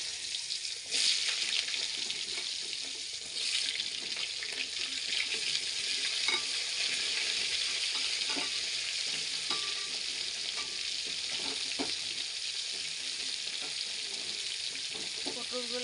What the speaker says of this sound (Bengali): আগে পটলগুলো ভেজে নিব পটলগুলো দিয়ে দিচ্ছি